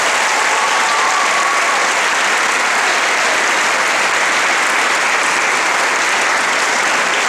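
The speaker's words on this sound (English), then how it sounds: "Let's give our teachers and staff a round of applause." Loud, sustained applause from a large convocation audience honouring teachers and staff, a dense even wash of clapping filling the whole stretch without a break.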